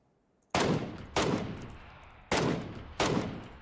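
Four loud bursts of rapid gunfire in the video game PUBG, evenly spaced with brief pauses between, sharp and close over a quiet background.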